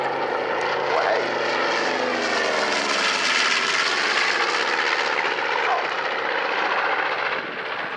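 A North American B-25 Mitchell bomber passes with its bomb bay open, a loud propeller-engine drone that swells and shifts in pitch as it goes by, then tails off.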